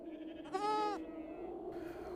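A sheep gives one short, wavering bleat at moderate distance, set against a low steady background drone.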